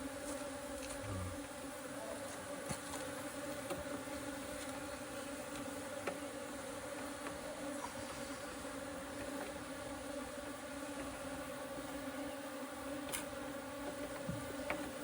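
Korean native honeybees buzz steadily during a rescue in an apartment parking lot, a dense continuous drone heard close up with no talk.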